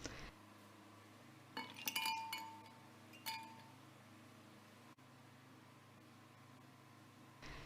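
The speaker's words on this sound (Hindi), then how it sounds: "आधा कप दूध डाल लेंगे और फिर हम डालेंगे इसमें बर्फ़ ताकि बहुत ही ठंडा ठंडा" Ice cubes drop into a blender jug already holding milk and sliced fruit for an apple banana smoothie, making several bright glassy clinks and rattles in a short cluster, then a lone clink, over a steady low hum.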